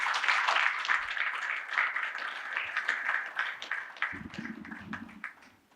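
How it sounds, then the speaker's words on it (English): An audience at a retail industry panel discussion in Pune applauds to welcome a panelist, a steady round of clapping that fades toward the end, with a faint low murmur late on. "let's welcome him with a round of applause"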